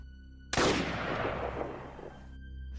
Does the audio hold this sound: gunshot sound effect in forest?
yes